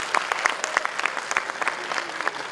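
An audience at a ceremony honouring meritorious students breaks into lively applause, with many quick, uneven claps from a nearby crowd sustained throughout.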